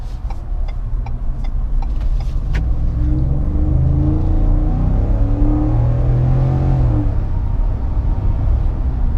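A 2021 Ford F-150 pickup truck engine rumbles loudly and revs up as the truck pulls away, a few clicks at first, then a steady heavy drone with shifting pitch.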